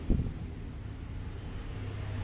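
Maspion standing electric fan with a bushing-type motor and a stiff, sticky rotor shaft, running as a steady low hum and rushing drone with a soft thump at the start, continuous and fairly quiet with no speech.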